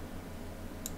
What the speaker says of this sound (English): I just press delete on my keyboard